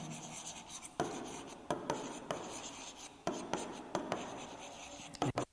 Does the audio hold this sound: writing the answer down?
yes